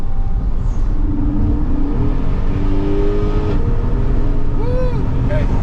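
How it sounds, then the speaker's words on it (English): A big-block 8.1-liter C8 Corvette engine roars loudly and steadily from close by, with a throttle lift partway through and people talking over it. "Oh, it just kind of let off the throttle."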